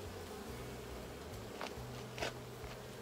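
Buckfast honey bees in a beehive in winter give a faint, steady low buzz, with a few soft brushing or scraping touches over it.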